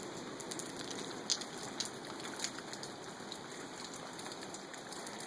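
Steady rain falls on a house construction site beside the foundation, a constant even hiss with a few sharper drips and splashes standing out, no voices.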